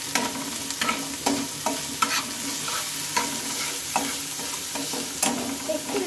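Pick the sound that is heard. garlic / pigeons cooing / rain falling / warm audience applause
garlic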